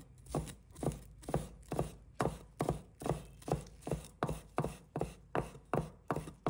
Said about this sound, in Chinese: 把它切成葱花。